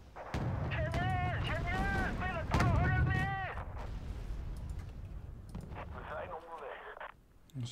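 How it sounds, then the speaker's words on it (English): Artillery smoke rounds land in a Wargame Red Dragon battle as a string of dull, booming impacts over roughly four seconds, followed by quieter rumbling and a second faint burst, with voices talking over them. "Smoke rounds coming in."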